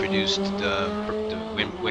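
A URD JT5 2016 Shiro race car from the Assetto Corsa racing game holds a steady, tonal engine drone throughout, with a voice talking over it.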